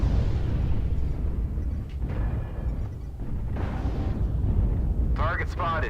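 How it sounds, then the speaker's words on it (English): Artillery strike explosions in the MechWarrior Online video game: a continuous heavy low rumble of booms with rolling blasts, loud and dense, a burst of higher mechanical whine near the end. "Artillery strike activated."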